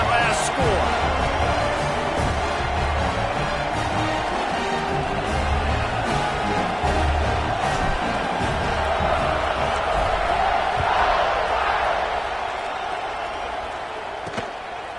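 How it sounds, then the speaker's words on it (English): A stadium crowd in a college football video game keeps up a broad, buzzing roar of cheering that stays steady, then eases slightly near the end, with a commentator talking over it. "this crowd is buzzing after that last score"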